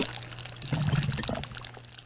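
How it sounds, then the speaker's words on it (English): An aquaponics bell siphon draining water, a gurgling, pouring rush with trickles and a low hum underneath, steady and close for about two seconds. "it vortexes and then it siphons, and it will siphon all the water down"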